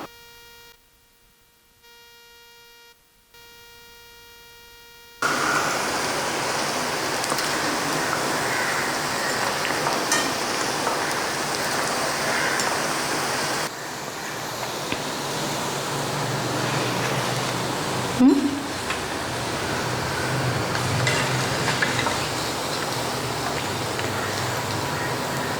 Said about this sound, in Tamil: இந்த மாதிரியே மீதி உள்ள உருண்டைகளையும் பொரிச்சு எடுத்துடலாம்